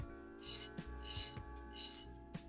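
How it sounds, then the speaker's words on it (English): A file or rasp smoothing the bead chain eyes on a striped bass fly hook: four or five close, rasping strokes in a steady back-and-forth rhythm, alone. "take a file or a rasp and you clean down the edges"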